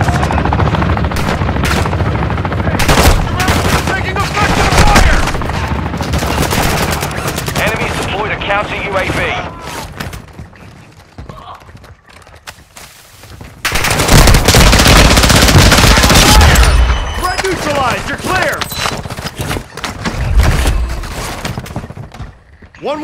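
Rapid automatic gunfire and bursts in Warzone 2 on the Ashika Island map, loud and dense with a helicopter-like drone beneath, a quieter lull midway, then heavy firing resumes, with radio-style voices talking over it.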